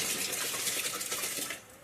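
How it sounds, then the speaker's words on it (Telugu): Water pouring steadily into a pot for chicken biryani, a short splashing, trickling stream that tapers off near the end. "ఇలా ఎసరు వేసి మరగనివ్వాలి"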